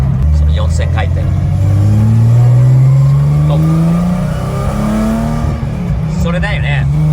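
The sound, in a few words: Nissan Fairlady Z S30 engine revving to 4000 rpm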